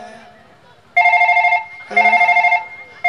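A telephone rings in two bursts of a harmonic electronic tone, with another starting at the end; a faint low murmur underneath.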